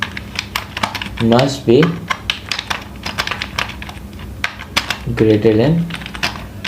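Fast clicking keystrokes on a computer keyboard while a password is typed into a web registration form, steady close taps interrupted by brief spoken words.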